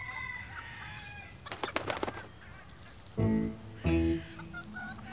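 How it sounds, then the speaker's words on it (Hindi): Roosters flap their wings in a short rustling burst, then give two loud, close squawks in quick succession against a quiet background. "ये तो मुर्गे हैं यार।"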